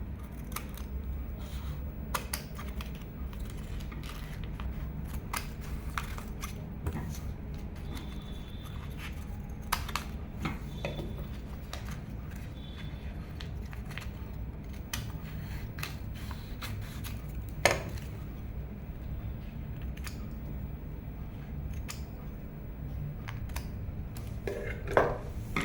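Scissors cutting canvas and fabric for a churidar neck design, a long run of quiet, close snips and crisp blade clicks at irregular intervals over a soft room background.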